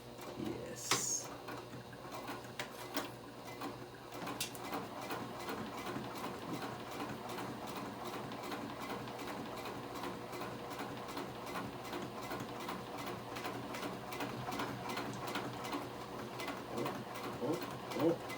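A sewing machine stitches a simple crossbody bag, its needle running in a rapid, steady mechanical patter for most of the stretch, close but quiet, with a voice speaking now and then over it.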